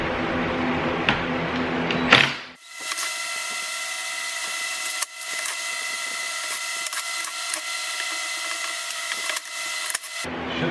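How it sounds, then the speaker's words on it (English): A drill with a T25 Torx bit unscrews the screws on a Jeep Wrangler spare tire mount, a close, steady whirring buzz that starts, pauses briefly and runs for several seconds before stopping. "So let me go ahead and get these screws off."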